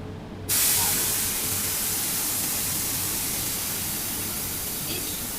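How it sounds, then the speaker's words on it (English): Ultrasonic double-side headband welding station on an automatic cup mask machine, 28 kHz at 800 W: a loud, steady hiss begins abruptly and holds evenly to the end, with no talk. "So it's a double-side welding station."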